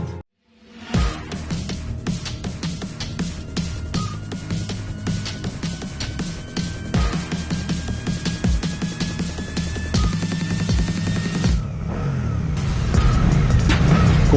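Racing motorcycles on the starting grid at the Lédenon circuit rev their engines loudly and continuously, a dense roar building louder toward the end.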